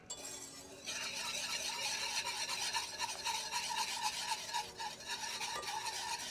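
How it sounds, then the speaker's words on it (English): A whisk scrapes and taps quickly against a bowl while blending a Cajun cream sauce with Parmesan and freshly chopped parsley. The rasping is close and continuous and starts after a brief quiet moment. "I'm gonna give everything a good whisk together, just so all those good flavors can incorporate"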